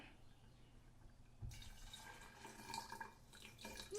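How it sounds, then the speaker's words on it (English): Water poured into a blender jar while making a Thai salad dressing, a brief liquid trickle and splash near the mic over low room noise. "Let's put a little tiny bit of water in there as well."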